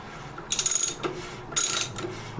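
Socket ratchet clicking in two quick bursts of rapid pawl clicks while a 13/16 socket tightens a cartridge nut on a Moen Adler bath faucet, close and crisp with pauses between strokes.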